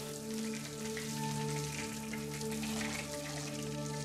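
Water sprays onto the wheels and tyres of a Clio 1.8 being cleaned, a steady, even hiss of spray and splashing that runs throughout with faint tonal hum beneath.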